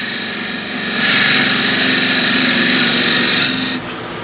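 Wood lathe spinning a walnut spatula pot while the rim is finished with light tool pressure, a steady motor whine with scraping that swells in the middle and eases near the end.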